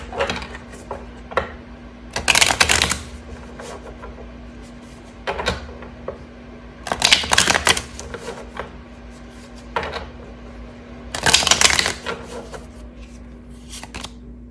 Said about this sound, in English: once all the cards are down